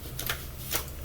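A deck of cards is shuffled by hand in a few quick riffling bursts, close and fairly soft, with no talking.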